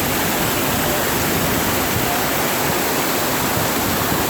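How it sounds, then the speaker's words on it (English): Rushing water of Argyle waterfall, a steady broadband roar that fills the scene continuously at close range with no pauses or talk. "You can hear the water and the birds in the background."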